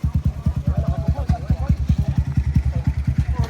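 A motorcycle engine idles at the start of a hard enduro race by a river, a close, loud, rapid chugging pulse that stays steady and even.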